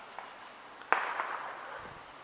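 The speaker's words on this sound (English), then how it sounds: "I know you hear fireworks" A single distant firework pops sharply over Hawley, Pennsylvania at night, followed by a faint rolling crackle that fades out over a quiet background.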